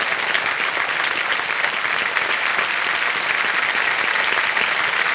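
A studio audience on a TV quiz show breaks into loud, sustained applause for a contestant, a thick, even wash of many hands clapping at once with no break.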